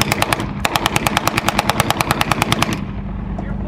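A military weapon fires blanks at a military vehicle rally in Florida, a loud, steady burst of about twenty evenly spaced rapid shots lasting nearly three seconds before cutting off abruptly.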